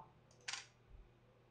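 A single quick mechanical click-clack of a camera shutter in a quiet room, brief and close, followed by a faint low thump.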